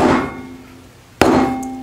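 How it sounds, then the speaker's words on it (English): A cheap Vaughan hatchet strikes wood twice, each a sharp loud impact with ringing decay as the blade bounces off. "we're gonna be out there trying to split wood with this thing."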